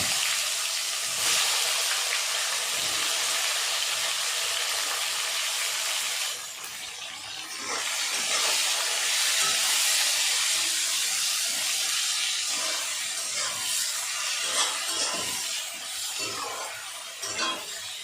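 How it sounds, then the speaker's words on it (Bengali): Onions frying in a pan for a Bengali mutton and potato curry, giving a steady, loud broadband sizzle and hiss that runs throughout, with occasional stirring scrapes and pops near the end. "পেঁয়াজ দেওয়ার পর পেঁয়াজটাকে ভালো করে ব্রাউনিশ কালারে ভেজে নেব"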